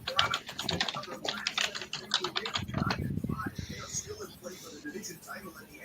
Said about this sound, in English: Listen to them fingers go, Cap.